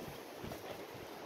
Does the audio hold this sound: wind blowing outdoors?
yes